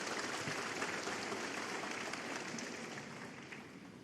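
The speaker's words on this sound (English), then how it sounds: "Applause for frame ball" Snooker crowd applauding a frame ball in a Shanghai Masters semi-final, a soft, even patter of clapping from the arena audience that tapers slightly toward the end.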